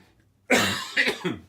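A single sharp cough followed by a couple of smaller throaty coughs, close by, with quiet before it.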